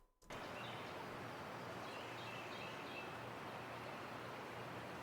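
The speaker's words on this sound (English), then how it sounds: "It's a forest sound." Forest ambience sample from a Cymatics sound bundle: a steady, dense wash of rustling noise with faint bird chirps scattered through, quiet and continuous after a brief start.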